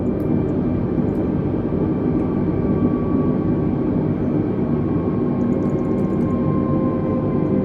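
Airbus A320neo on landing approach to runway 27 in a flight simulator game, a constant droning engine hum with a low rumble and faint whine, steady and unbroken throughout.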